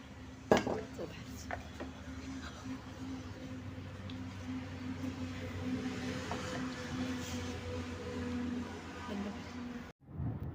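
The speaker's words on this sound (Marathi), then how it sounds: "हा जो हिरवा कलर आहे तो मी त्याच्यामध्ये टाकते आणि ढवळत राहते" Green-coloured Bombay Karachi halwa mixture is stirred in a pan, with a spoon scraping and clinking against the metal over a steady low hum, including one sharper knock early on.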